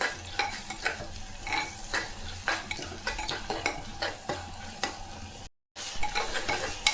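Onions and tomatoes fry in a pan with turmeric and rock salt, a spoon stirring and scraping in a quick, repeated rhythm over a steady low sizzle, with one brief silent gap.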